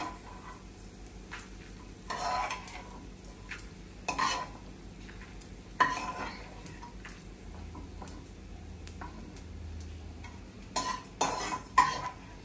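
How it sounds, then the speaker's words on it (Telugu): Nalleru pieces fry and get stirred in a pan, soft steady sizzle broken by several louder scrapes and clinks of a spoon against the metal, fairly quiet and close. "ఇవి వేయించి పైకి ఇవి తీసేసుకోవాలి"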